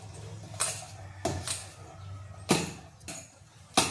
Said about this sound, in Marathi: ती फक्त चमच्याने हलवते आहे